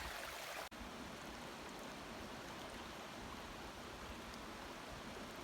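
Steady rushing water flows continuously, a broad even hiss of a river at a hiking-trail crossing in Maine's 100 Mile Wilderness on the Appalachian Trail, briefly cut for an instant early on.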